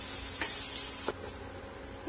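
Ginger garlic paste sizzles softly in a pan while a utensil stirs and scrapes now and then; the frying is gentle and close, with no voices.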